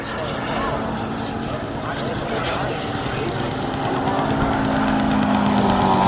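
A radio-controlled tail-dragger model airplane comes in to land, its propeller engine droning steadily and rising slightly in pitch, loud and close throughout, with a broad airy wash behind it.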